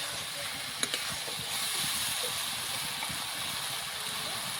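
Soybean pieces and potato sizzle and hiss in frying spice masala while being stirred, giving a steady close crackle with a few sharp clinks of the utensil against the pan.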